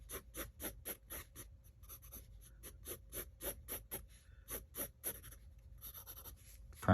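Pencil drawing lines on paper while sketching perspective prisms: close, steady scratchy strokes in a fairly even rhythm, quiet overall.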